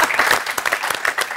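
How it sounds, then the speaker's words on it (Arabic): A studio audience on a TV variety show breaks into brisk, dense applause, individual claps popping sharply and close within a steady wash of clapping. "صفقوا عليا"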